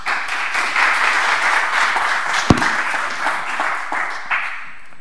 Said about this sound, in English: Give him some claps.